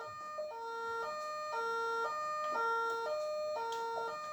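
A French emergency vehicle siren cycling through a two-tone wail at a regular rhythm, about half a second per tone, steady and fairly near with no talk over it.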